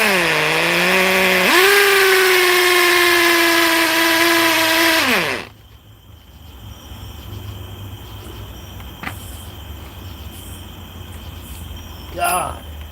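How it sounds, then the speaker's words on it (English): A power drill bores into rocky concrete while a deck is built at night, whining loudly for about five seconds with a pitch jump as it bites, then cutting off to quiet outdoor night ambience. "I must have drilled right into a rock again."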